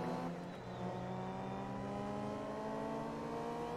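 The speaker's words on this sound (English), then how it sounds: "Oh, that exhaust." A Vauxhall race car fitted with racing tyres sounds off in Forza Motorsport 2, a steady, revving engine and exhaust drone with rising tonal harmonics, faint and alone.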